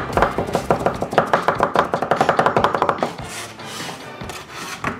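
Green onions chopped with two knives at once on a cutting board in a military kitchen: a fast, dense run of close, sharp strikes for about three seconds, then looser, quieter knocks and scraping.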